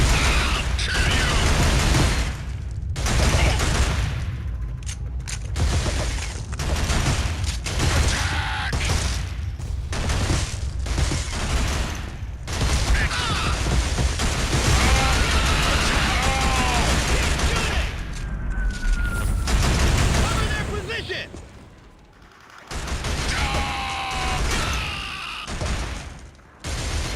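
Sustained bursts of video game gunfire with mechanical clatter and booms, continuous and loud across the stretch with brief lulls, suppressive fire rattling on.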